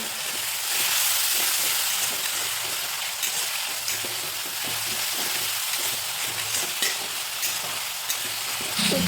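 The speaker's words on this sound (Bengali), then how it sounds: "জল দিয়ে ভালো করে কষিয়ে নিচ্ছি" Spices sizzle in a pan with a little water added, Bengali home cooking, a dense steady hiss with repeated close scraping stirs in a loose rhythm, no voices over it.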